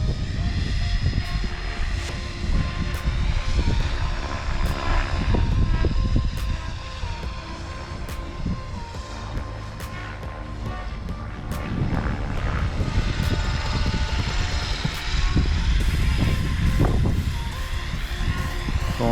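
Trex 500x RC helicopter in flight, a steady high-pitched rotor and motor whine with swelling and fading loudness as it passes, and wind gusting on the microphone.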